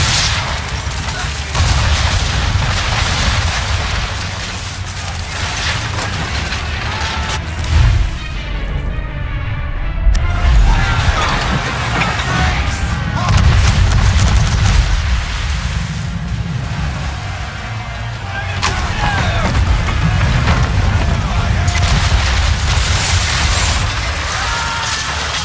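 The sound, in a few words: ship cannon fire in video game Assassin's Creed III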